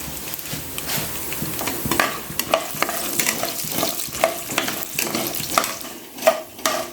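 Raw peanuts dry-roasting in a pan for a simple lunch-box rice dish, stirred with a utensil, giving a steady, close run of scraping, rattling clinks over a soft continuous sizzle.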